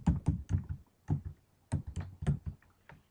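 Quick bursts of typing on a computer keyboard, clustered key clicks in uneven runs with short pauses, close and fairly quiet.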